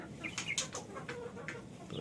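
Hens in a small home poultry setup, including naked-neck birds, cluck in short, repeated bursts, several nearby calls overlapping against a soft farmyard background, faint and unaccompanied by talk.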